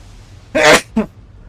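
Someone with allergies sneezes during a game session, two sharp bursts in quick succession, the first long and loud, the second short, over a quiet background.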